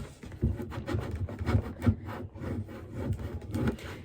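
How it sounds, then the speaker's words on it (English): Squeegee rubbing a vinyl transfer down onto a wooden porch sign board, a close, steady scraping and rubbing with repeated firmer strokes and no talk. "You would just make sure you squeegee it out."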